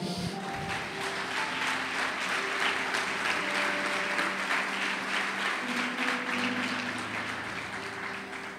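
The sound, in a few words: congregation applauding in church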